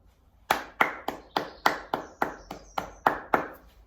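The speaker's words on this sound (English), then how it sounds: "stand up for your big round of applause too" Sharp, echoing claps at a school celebration assembly, about a dozen evenly spaced loud slaps that ring out in a reverberant hall, sounding like one or a few people clapping slowly rather than a full crowd.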